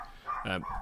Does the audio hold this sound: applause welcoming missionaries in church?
no